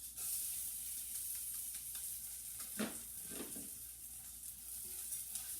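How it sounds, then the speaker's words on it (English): Rice poured into a pan of browned noodles for Armenian rice pilaf and stirred, a soft sizzle with a couple of brief scraping strokes, close and quiet with no talking. "now we're gonna put the rice"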